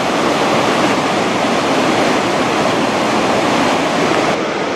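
Latefossen waterfall near Odda, Norway, roars as a loud, steady broadband rush of falling water close to the microphone, continuous with no talking.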